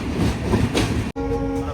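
A Duronto Express passenger train running past Chandrapur station without stopping, with a loud, close rolling rumble and wheel clatter, then a steady horn blast near the end after a brief dip in the noise.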